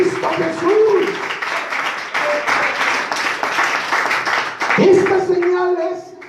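A church congregation breaks into strong clapping, many hands applauding steadily, with voices rising over the start and the end of the burst.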